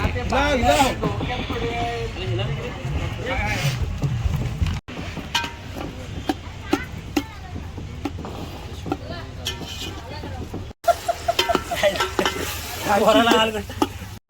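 Onions fry and are stirred for chicken curry over a wood-fired stove at an outdoor village party, a steady sizzle with scraping and clattering of the spoon, close and loud, under frequent talking from several people.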